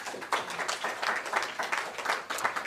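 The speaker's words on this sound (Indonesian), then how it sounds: "Tepuk tangan lagi" Sustained applause from a crowd at a business presentation, dense clapping that swells and pulses steadily without any talking.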